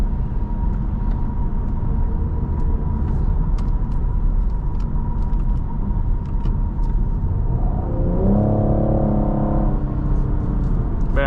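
A 2023 Cadillac CT5-V driven on the road, its engine giving a steady low rumble with road and tire noise from inside the cabin, then the revs climb and fall near the end as it accelerates; no talking.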